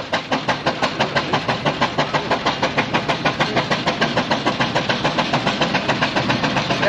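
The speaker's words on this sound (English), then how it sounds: "Now we're going to clear the tubes out on that single cylinder ploughing engine." Single-cylinder steam ploughing engine at a steam fair working hard while its tubes are cleared, a fast, steady stream of rapid exhaust beats with constant hiss, close and loud throughout.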